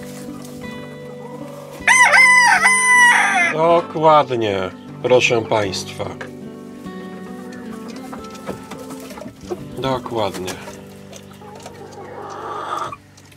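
Green-legged hens cluck and a rooster crows loudly nearby in a henhouse in the morning, with scattered squawks and someone speaking between the bird calls.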